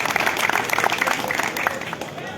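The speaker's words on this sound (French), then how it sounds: "Il faut l'applaudir, il faut le saluer." A crowd at a political campaign gathering applauds a candidate with brisk, fairly loud clapping, many individual claps audible in a dense patter, with voices mixed in.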